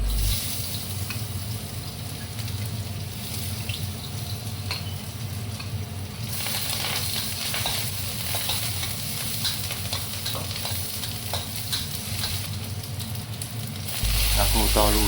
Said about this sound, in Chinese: 锅里再次加油，来炒菌达菜。 加入葱姜蒜，炒香。